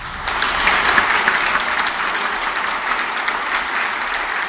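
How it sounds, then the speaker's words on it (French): A church congregation at a Sunday homily for a Franciscan youth commitment breaks into steady applause, a broad even wash of many hands clapping throughout. "Pour ça, nous pouvons l'applaudir très très fort."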